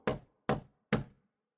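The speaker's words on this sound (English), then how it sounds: "Someone knocked on Richard's door." Three firm, evenly spaced knocks on a door, close and crisp, each fading quickly into silence.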